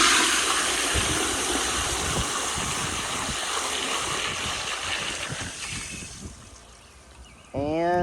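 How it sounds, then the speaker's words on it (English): A 1998 American Standard Cadet space-saver toilet on a flushometer flushes with a loud rushing, gurgling surge of water that fades over several seconds, then a short tonal whine at the end. "couple more flushes with everything unblocked"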